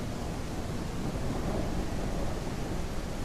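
A video game thunderstorm rumbles in a dense, continuous roll of low thunder mixed with rain-like hiss, steady and loud throughout with no talk.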